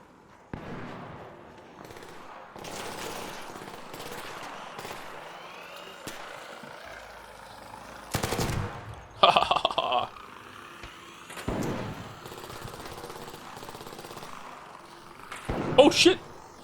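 Gunfire bursts in the shooter video game Arc Raiders, a few loud volleys and isolated shots scattered among quieter game sounds, with a player talking throughout.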